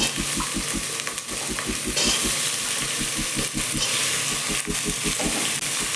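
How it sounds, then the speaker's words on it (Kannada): Capsicum and potato pieces frying in hot oil, a steady loud sizzle with rhythmic stirring scrapes running throughout, close up with no talk. "ಎಣ್ಣೆನಲ್ಲಿ ಸ್ವಲ್ಪ ಫ್ರೈ ಮಾಡ್ಕೋಬೇಕು"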